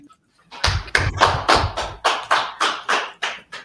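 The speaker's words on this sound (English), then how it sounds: "clap it up" About ten sharp hand claps in a slow, even rhythm, loud and close, with no talk between them.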